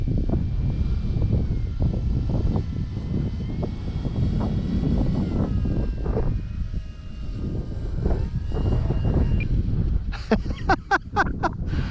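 A radio-controlled Draco STOL model propeller plane drones steadily overhead as it approaches to land into the wind, with gusty wind noise on the microphone, ending in a few sharp clicks.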